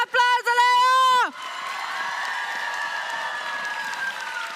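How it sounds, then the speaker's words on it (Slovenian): Loud applause and crowd noise for the Best in Show winner of the NMN 2026 cosplay contest, with a few whistles, following a brief loud voice at the start. "bučen aplavz za Lejo"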